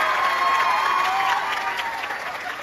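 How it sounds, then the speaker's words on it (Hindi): A crowd of schoolchildren at a political gathering in Assandh, Haryana, claps steadily and fairly loud throughout, a dense, even patter with no voices over it. "जोरदार तालियों से एक बार"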